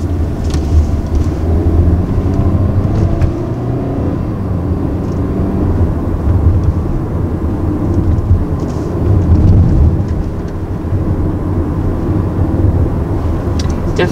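A 2020 Hyundai Santa Fe SUV in sport mode accelerates hard, a steady low engine roar and road rumble heard from inside the cabin, holding loud and constant throughout without any talk.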